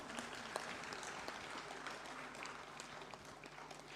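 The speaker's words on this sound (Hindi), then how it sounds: "the Gujarat State Cooperative Bank Limited के लिए भी जोरदार तालियों का साथ" Applause from delegates at a national conference of rural cooperative banks, a fairly quiet, distant wash of clapping that stays even throughout with a faint room hum beneath.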